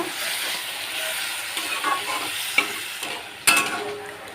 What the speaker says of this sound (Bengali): লোটে মাছটা এর মধ্যে দিয়ে দিচ্ছি গ্যাসের ফ্লেমটা আমি এবারে বাড়িয়ে দিলাম নেড়ে চেড়ে সমস্ত কিছু একবার ভালোভাবে মিশিয়ে দেব